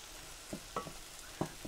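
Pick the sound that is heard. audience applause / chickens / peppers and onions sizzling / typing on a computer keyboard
peppers and onions sizzling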